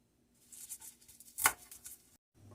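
A knife chops fresh parsley on a board for meatball seasoning, giving quick soft close taps with one sharper cut midway, then a brief pause, in a quiet kitchen.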